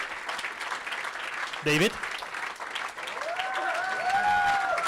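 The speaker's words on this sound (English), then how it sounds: "please again come out here and get your applause" Audience applauding team members at a launch event, a steady wash of clapping from a crowd, with someone speaking over it and a brief burst of louder noise partway through.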